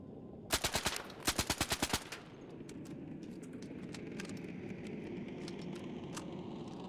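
Enemy gunfire in Arc Raiders: two quick automatic bursts of sharp, evenly spaced shots, about four then seven rounds, followed by scattered fainter distant shots over a low ambient hum.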